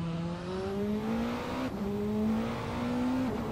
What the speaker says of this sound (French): Et des voitures qui gueulent.